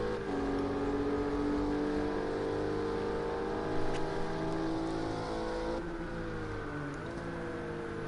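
Acura GT3 race car at Oschersleben in a sim racing game, its engine droning steadily at high revs with shifting pitch, dipping briefly as it settles over a sausage curb, continuous and close.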